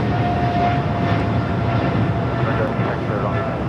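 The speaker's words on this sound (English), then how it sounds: "This is Eva Air Cargo 621 taking off to Taipei on the 777 freighter." An Eva Air Cargo Boeing 777 freighter takes off at Los Angeles airport, a steady broadband engine roar filling the whole stretch at close range, with a voice talking over it.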